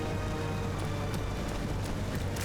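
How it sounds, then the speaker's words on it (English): Pouring rain in the video game GoldenEye 007 Reloaded makes a dense, continuous hissing wash with no pauses, fairly loud and alone. "I like how it's just pouring rain."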